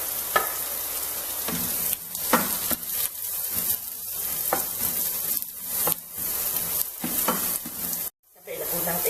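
Onion frying in a pan for Bulacan-style tinumis gives a continuous loud sizzle, close by. Repeated scrapes of a spatula stir through it, and there is a brief dip near the end with no talking.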